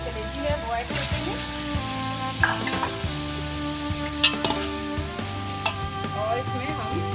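Ginger and garlic sizzle loudly in hot oil in a pan, a continuous crackling fry broken by a few spoon scrapes and clinks against the metal as it gets stirred.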